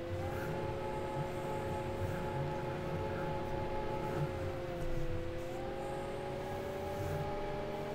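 A farm harvester engine in Farming Simulator 15, a Big X1100 working a corn field in California's Central Valley, gives a steady, quiet whine with slowly shifting pitch under a constant low rumble, with no talk.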